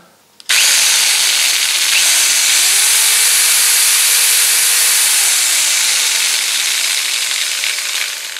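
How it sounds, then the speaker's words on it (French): A 500-watt jigsaw's motor whirs on suddenly and runs loud and steady with a hissing, high whine, its pitch sagging and rising under load. "Donc ça c'est une scie sauteuse."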